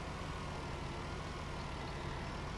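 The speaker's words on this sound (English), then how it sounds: "turn the engine off so we can hear what I'm saying a bit better" Steady engine drone from a tractor in Farming Simulator 19, a low, even rumble held at a constant level with no changes in pitch, fairly quiet and heard alone.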